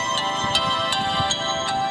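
A phone's ringtone plays close and loud outdoors beside a chicken coop and garden: a repeating electronic tune with rhythmic pulses about twice a second, heard alone without talk.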